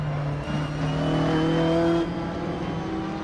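A race car engine in the video game Assetto Corsa drones loudly and steadily, its pitch climbing slightly before settling as it runs through a corner, with no talking.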